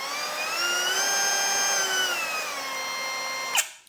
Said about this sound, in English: So as it's running, we're at 4. All the way up to top speed, and then all the way down to load speed here as well.